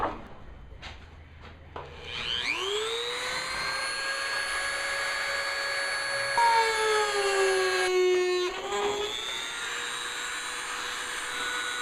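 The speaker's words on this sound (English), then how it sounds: "I'm just going to use a Dremel just for a little bit cleaner cut" A Dremel rotary tool cuts through panel material during an sPOD installation on a Jeep Wrangler, spinning up after a few knocks into a sustained high whine that shifts pitch as it bites, with a brief rattling stutter near the end.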